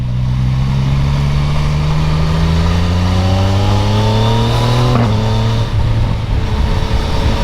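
A Yamaha Tracer 900 GT motorcycle accelerates hard, its loud, close engine note climbing steadily in pitch, then dropping sharply at a quick gear change around the middle before pulling on again under heavy wind rush.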